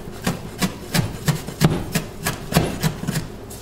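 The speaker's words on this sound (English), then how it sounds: "You want to go ahead and give it a rough chop with a sharp knife." A sharp knife gives herbs a rough chop on a cutting board, a quick, fairly even series of about a dozen close, crisp taps with soft rubbing between strokes and no voices.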